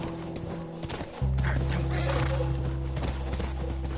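Horse hooves clop and a whinny sounds in The Last of Us video game, a brief clip that swells into a loud, steady rumble of movement after the first second, with faint voice beneath.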